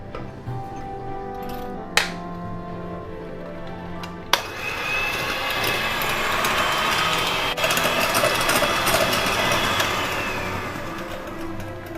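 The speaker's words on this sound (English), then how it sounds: "So the next I'm going to beat the egg yolks and the powdered sugar." An electric mixer beats egg yolks with powdered sugar for waffle batter, running as a continuous whirring hum with a few clicks as it starts up and shifts in pitch.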